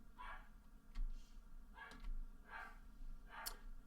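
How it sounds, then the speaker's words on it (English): A dog barks in another room of a home, four faint, separate woofs spaced about a second apart over low background hum. "Oh, there's my dog in the background."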